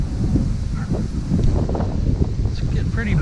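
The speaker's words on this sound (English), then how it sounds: "It's getting pretty breezy" Breezy outdoor wind buffets the microphone as a steady low rumble during a DJI Mavic drone flight over a neighborhood, with a voice speaking faintly underneath.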